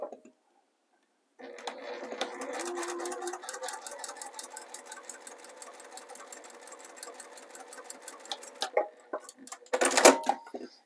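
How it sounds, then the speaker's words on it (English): A sewing machine runs steadily for about seven seconds, stitching strips of quilt binding fabric together along a drawn diagonal line, with rapid even needle chatter close by and a few clicks and handling noises afterward. "you're going to sew directly on that line"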